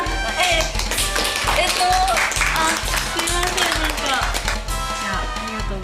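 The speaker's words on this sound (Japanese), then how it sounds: "拍手" Clapping from a small group in a studio game show, steady and close, running under overlapping speech and laughter for the length of the clip.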